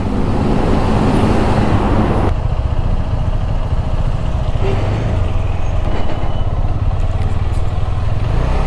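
Heavy, crowded traffic packs a highway toll plaza in India, heard from a motorcycle. A loud, steady roar of engines and road noise continues throughout, with buffeting wind and passing vehicles.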